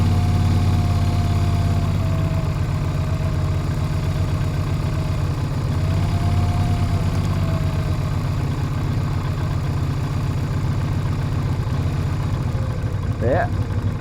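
A Yamaha Virago XV250 motorcycle engine fitted with pod filters runs steadily near idle and is eased off idle into a slightly higher throttle, a loud continuous close rumble throughout.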